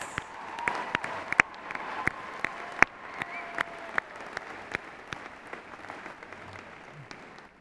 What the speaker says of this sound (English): Let's have another round of applause for these outstanding students.